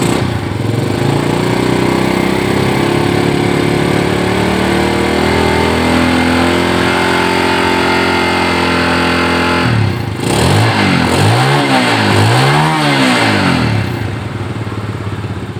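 A motorcycle engine, just repaired after an oil seep, starts and idles with a steady, close, loud chug, then revs up and down in several rising and falling swells before settling again.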